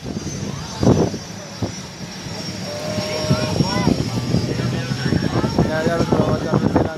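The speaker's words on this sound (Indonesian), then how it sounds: "Pesawat yang masuk." A fixed-wing aircraft flies in overhead during an Indonesian Air Force display with fighter jets and a Puma helicopter, its engine drone building steadily under talk and crowd noise from spectators nearby.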